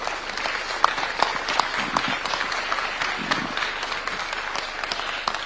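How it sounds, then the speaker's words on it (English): Dense, sustained applause from a standing crowd at a Jamhuri Day event, many hands clapping together in a continuous wash with a few sharper individual claps standing out, steady throughout. "May we all stand with a hand clap to invite His Excellency"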